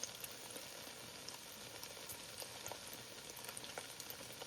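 Whole garlic cloves and serrano hot peppers fry in a braise pan, giving a steady, close crackling sizzle with small pops scattered throughout and no talking.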